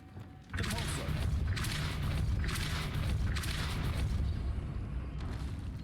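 Depulso spell cast in the video game Hogwarts Legacy, a loud rumbling blast with repeated whooshing surges that swell and fade over several seconds.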